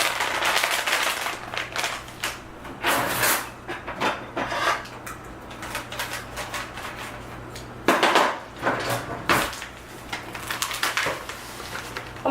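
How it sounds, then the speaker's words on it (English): Halloween baking ingredients are poured into a bowl, giving irregular clattering and rattling bursts with light knocks and scrapes, moderately close with quiet pauses between pours. "Let me go ahead and pour everything in this bowl."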